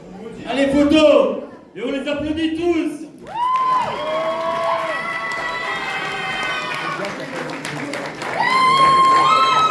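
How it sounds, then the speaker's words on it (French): An audience at a cosplay contest claps and cheers as contestants gather on stage, the applause swelling behind loud nearby talking and laughter, with bursts of crowd noise rising toward the end. "Et on les applaudit tous."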